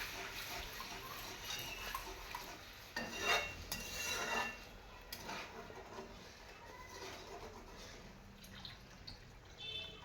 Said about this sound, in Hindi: हमारा मसाला भुनाकर तैयार हो चुका है। अब बारी है इसमें पानी देने की।